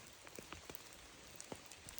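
Rain patters down on a campsite in the woods high in the mountains, soft scattered drops tapping surfaces at an even, faint level with no one speaking.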